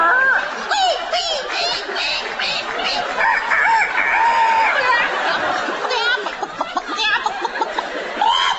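A performer in a comedy sketch imitates a chicken, voicing a string of clucks and squawks like a hen and rooster, loud and close, with other voices chattering around it.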